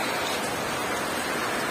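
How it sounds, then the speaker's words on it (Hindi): Heavy rain pours steadily and loudly in Tura town, a dense continuous hiss filling the whole moment with no voices over it. "यहाँ पर बहुत जोर से बारिश गिर रहा है"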